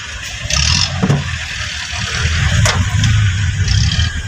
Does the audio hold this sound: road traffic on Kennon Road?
yes